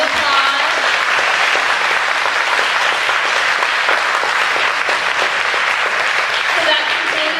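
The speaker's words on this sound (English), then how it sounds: "Let's give all of them one more round of applause." Sustained, full audience applause at an evening dessert concert after the performances, loud and even from start to finish with faint voices mixed in.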